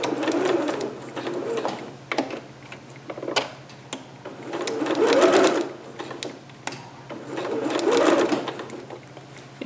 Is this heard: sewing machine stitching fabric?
yes